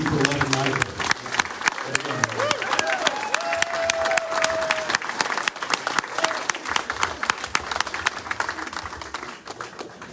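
An audience breaks into sustained, loud clapping with scattered cheers and a whistle, the dense applause continuing for about ten seconds before thinning slightly toward the end.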